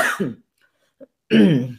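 A single short cough in a quiet pause, with a voice talking just before and after it.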